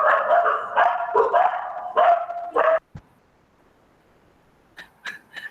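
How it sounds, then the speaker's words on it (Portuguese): Small dogs bark in quick, close bursts, a cluster of sharp yaps and yips, then a pause and a few fainter high barks at the end. "Vai deixar latir, Sara, os cachorrinhos."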